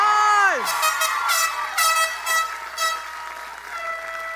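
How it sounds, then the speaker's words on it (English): Applause at a university commencement ceremony fills the space while a loud, tonal air horn blares in repeated bursts over the clapping crowd. "Second Lieutenant Jalik Christian, give him another round of applause."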